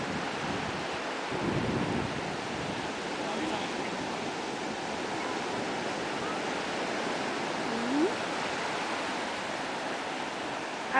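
Ocean surf at Caloundra beach in Australia rolls as a continuous washing roar mixed with wind buffeting on the microphone, with a faint voice briefly heard.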